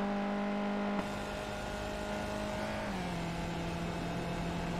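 Race car engines at Watkins Glen in the iRacing video game make a steady, moderately faint drone. The pitch drops in two steps as the car shifts through a sequential gearbox.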